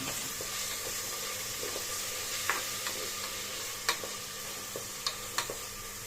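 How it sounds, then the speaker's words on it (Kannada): Chopped tomatoes fry in oil with ginger garlic paste in a pan for kushka, giving a continuous close sizzle with scattered sharp pops and spoon clinks as the mixture is stirred. "ಟೊಮೆಟೊ ಬಂದು ಚೆನ್ನಾಗಿ ಸಾಫ್ಟ್ ಆಗಬೇಕು ಎಣ್ಣೆ ಬಿಟ್ಕೋಬೇಕು ಅಲ್ಲಿವರೆಗೂ ನೀಟಾಗಿ ಫ್ರೈ ಮಾಡ್ಕೋಬೇಕು"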